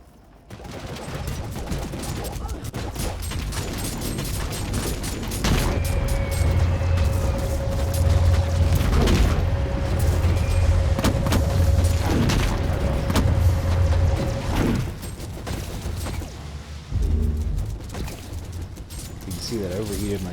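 Rapid gunfire and booming explosions from the Warhammer 40K Inquisitor video game, playing as a Tech-Adept, form a loud, dense barrage that swells in the middle and lasts throughout, with a voice talking over it.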